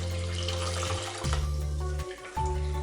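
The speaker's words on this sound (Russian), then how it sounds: "Добавляю 100 мл свежевыжатого лимонного сока и 1 литр 300 мл воды." Water runs steadily from a tap into a pot, a continuous gushing flow that briefly dips twice before resuming, with no talking.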